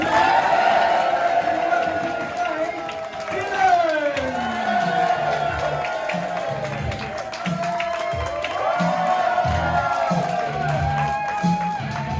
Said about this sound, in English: I'm going to say 2, and you're going to start clapping. 2. And on top of that, you're going to start cheering.